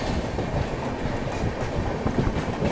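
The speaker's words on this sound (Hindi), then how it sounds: "साथ में हमारी क्रॉसिंग हो रही है, क्या बात है, लालबाग एक्सप्रेस से" A Lalbagh Express passes alongside a Tirunelveli–Bilaspur Superfast at a crossing, heard from on board as a steady loud rumble of wheels with rhythmic clacking over the track joints.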